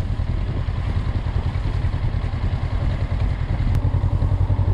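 Dirt bike ridden along a green lane, its engine a steady throbbing drone with a clattering rhythm under the rider, fairly loud and close throughout with a few thumps from the rough ground.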